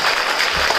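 A seminar audience claps in a short, dense burst of crowd applause under a second long, loud and close throughout.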